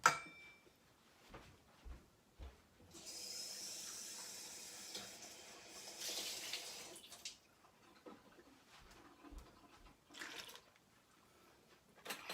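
Water poured into a bowl for homemade tortilla dough, a quiet trickling stream lasting several seconds amid faint kitchen handling noises.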